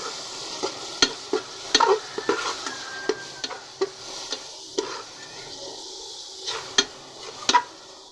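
A spatula stirs cumin paste and garlic paste in a frying pan for an egg and potato curry: irregular sharp scrapes and clacks over a soft, low sizzle, close and fairly quiet.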